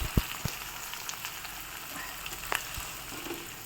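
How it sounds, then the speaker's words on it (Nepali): Onions frying in a pan for thukpa, a soft steady sizzle with scattered crackles and pops, fairly quiet and close, with no voices over it. "प्याज यसरी रातो बनाउँदैछु"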